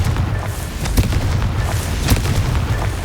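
A Confringo blasting spell explodes in Hogwarts Legacy, a deep, rumbling magical blast with several punchy booms and crackling bursts rolling over a dense low roar.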